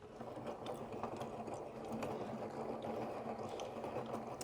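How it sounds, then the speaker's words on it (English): A burr grain mill grinds grain into flour with a steady, buzzing mechanical whir and faint rattling, quiet and continuous without pauses. "you've got the grain coming through between these two burrs"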